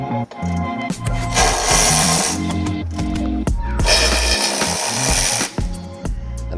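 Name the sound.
socket wrench removing nuts from BMW front brace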